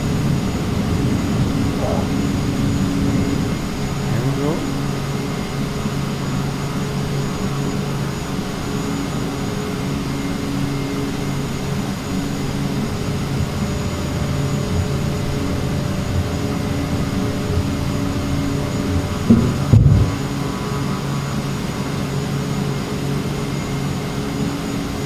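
A Beech 200 turboprop rolls for takeoff on a long runway in Microsoft Flight Simulator 2024, a steady droning engine hum that holds level throughout, with someone talking over it.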